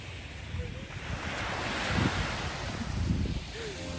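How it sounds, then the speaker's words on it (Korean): Winter sea waves at Gangneung wash and roll in a steady roar, swelling and fading, with wind buffeting the microphone and faint voices. "파도 소리 들리시나요?"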